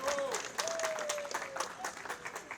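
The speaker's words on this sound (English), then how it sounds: "Another warm round of applause for the President." A crowd applauds warmly for the President at a FIFA World Cup trophy tour event, dense clapping filling the room with a voice briefly heard over it.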